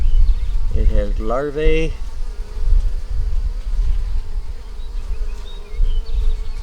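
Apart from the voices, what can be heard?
honeybees buzzing around an opened hive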